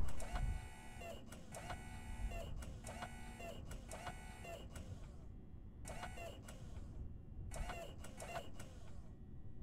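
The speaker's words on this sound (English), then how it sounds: "now I can just use my numpad to extend these, and we hear the clunking sound" Kerbal Space Program crane parts clunking as they retract: a steady mechanical whir broken by regular, repeated clunks roughly every second, ending in a couple of final clunks, with no voice over it.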